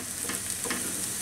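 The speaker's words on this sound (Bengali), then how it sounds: "আমার পছন্দ মতো ভাজা হয়ে যাবে বাগানের জন্য, পুড়বেও না, ভালো বাদামি হয়ে যাবে।" Onion and whole cumin seeds frying in a pan give a brief, close, continuous sizzle with light crackles and soft stirring.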